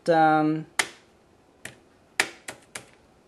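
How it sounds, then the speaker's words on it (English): Keys on the keyboard of an Acer Iconia W3 810 tablet give five or six sharp, separate clicks at uneven gaps, just after a brief voiced sound, with quiet room noise between the taps. "Okay, and then start typing."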